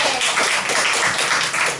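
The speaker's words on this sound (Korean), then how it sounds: "놀라운 역사에 박수 한번 쳐주세요" A church congregation at Immanuel Church applauds during a sermon: a loud, dense, sustained round of clapping from a full room, continuous for its whole length with no voice on top.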